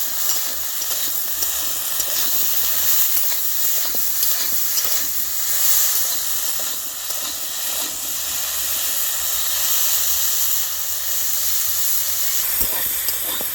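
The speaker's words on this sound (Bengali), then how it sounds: "এবার দিচ্ছি কিছুটা লবণ আর খুব অল্প করে হলুদের গুঁড়ো দিয়ে ভালো করে ভেজে নেব।" Potato and eggplant pieces seasoned with salt and a little turmeric fry in oil with a loud, continuous close-up hiss and sizzle that holds steady throughout, with no talking.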